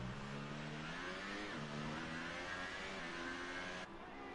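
Formula 1 race cars from the F1 2018 video game accelerating through Monaco, a loud, continuous high-revving engine whine with rising pitch sweeps as gears change, alone without talk.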